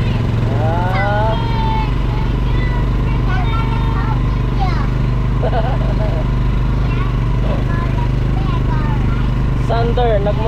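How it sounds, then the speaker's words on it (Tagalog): A motorbike ride around Coron: a steady low engine drone runs throughout, close and loud, with excited voices chattering and calling out over it. "Sander, nagmotor sa Coron."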